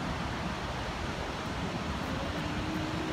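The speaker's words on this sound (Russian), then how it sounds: "Вот там волна бултыхается." Ocean waves at Bondi Beach in Sydney, a popular surf beach, heard as a steady, loud wash of surf with wind noise throughout, no distinct individual breakers.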